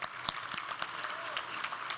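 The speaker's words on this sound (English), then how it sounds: "so we'll give them a round of applause" A conference audience at a women's leadership event applauds its sponsors. The clapping is moderate and continuous, with a few sharper individual claps standing out. A faint voice may sit underneath.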